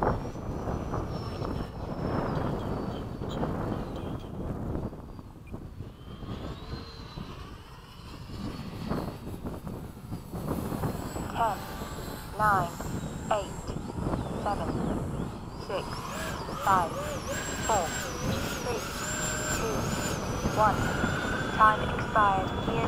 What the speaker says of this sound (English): Mig does a good dirty roll, holy crap.